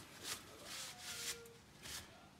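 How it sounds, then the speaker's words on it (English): A cloth wiping down a prepped car surface near the mud flap area, soft rhythmic rubbing strokes in several passes, close and quiet. "I'll just give it a wipe down."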